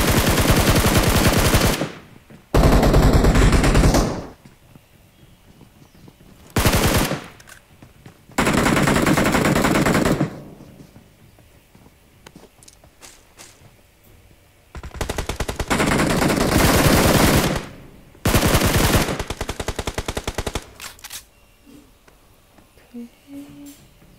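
Long sprays of automatic Tommy gun fire from BGMI on the Erangel map come in loud repeated bursts separated by quieter gaps, with a player talking in between.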